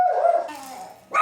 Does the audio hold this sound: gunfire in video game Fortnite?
no